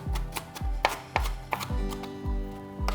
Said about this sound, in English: so chopping that up, we will add that on